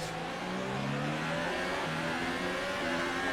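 Race car engine from the rFactor racing game, a steady loud droning whine held throughout with rising and shifting pitch, heard alone without talk.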